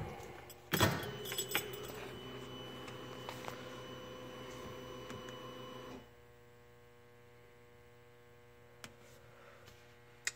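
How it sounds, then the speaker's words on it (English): Keys jangle sharply as a key goes into a UTV ignition, a loud close clatter with a few smaller clinks, over a steady electrical hum that drops lower halfway through. "So now I'm going to go ahead and put the key in."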